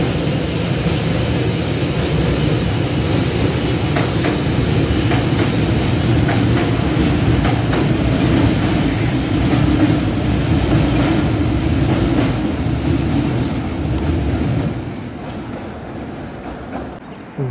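A Hiroden tram in Hiroshima makes a steady, fairly loud rail rumble with faint clicking that holds for most of the stretch, then eases off toward the end, with no talking.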